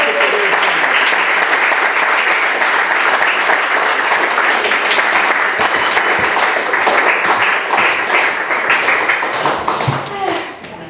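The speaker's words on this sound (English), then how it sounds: "Give her a huge round of applause." An audience at a gallery beat poetry event gives a poet sustained, dense applause that holds steady for about ten seconds before tapering off at the end.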